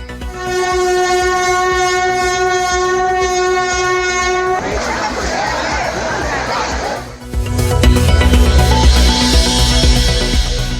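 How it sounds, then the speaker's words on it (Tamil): Crowded railway station at Tiruvannamalai after Girivalam, with a train and a sustained horn tone under loud crowd chatter, a brief noisy burst in the middle, then rumbling rail noise and continuing voices. "ரயில் நிலையத்தில் அலைமோதிய கூட்டம்"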